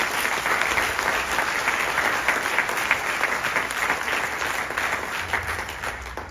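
An audience at a bar association gathering gives a round of applause, dense and steady clapping that fades slightly toward the end.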